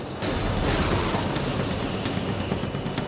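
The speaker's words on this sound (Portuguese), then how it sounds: "Há muitos relâmpagos por perto e o vento só está aumentando." Strong gusting wind ahead of an approaching summer thunderstorm, a dense continuous roar that swells in after a brief quiet start and stays loud and steady throughout.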